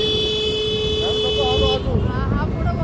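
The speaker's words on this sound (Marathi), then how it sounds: "हा पुढं बघून नुसतं हॉर्न वाजवते." A vehicle horn sounds one steady, loud, continuous blast for almost two seconds while riding on a road in rainy weather, then cuts off as a voice speaks over the traffic noise.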